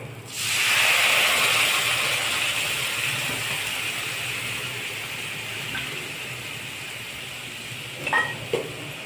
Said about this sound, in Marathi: त्यात आपण कांदा आणि टमाटा तेलात परतून पेस्ट केली आहे ते घालत आहे.